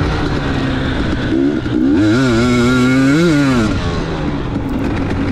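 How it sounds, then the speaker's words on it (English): A 2019 KTM 250XC two-stroke dirt bike revs hard on the pipe during a race lap, its engine note climbing and falling in quick waves, loud and close throughout. "Gotta love listening to a 2-stroke singing on the pipe like that."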